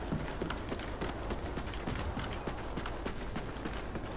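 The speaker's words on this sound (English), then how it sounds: "I can hear footsteps" Footsteps in the online shooter Call of Duty: Ghosts during a Gun Game match, a run of quick, dense thuds and taps like hurried movement over hard ground, steady and fairly close, with no voices over them.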